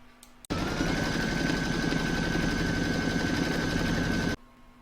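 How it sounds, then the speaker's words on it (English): Embroidery machine stitching around a fabric appliqué piece for an in-the-hoop love bubble word design, a steady loud mechanical whir with rapid needle chatter running unbroken for about four seconds, starting and stopping abruptly. "pop it back in my machine and stitch round number 5"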